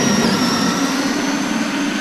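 A Traxxas E-Revo RC car motor runs at full throttle, a steady high-pitched electric whine with a constant buzzing drone, close and fairly loud, with no talking.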